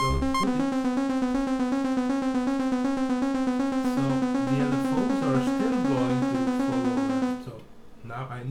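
Elektron Digitone synthesizer repeating the same sequence of notes, with per-voice LFO modulation making the pattern shift and wobble; steady and loud throughout, then cutting off near the end.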